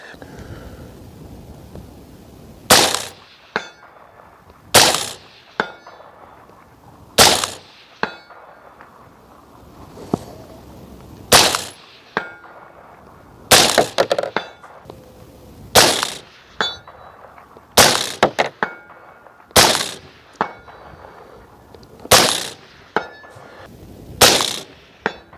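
Suppressed 5.56 rifle shots fire one at a time, about a dozen sharp cracks spaced a second or two apart, aimed at a steel target 250 yards away. Each report is short and punchy against a quiet outdoor background.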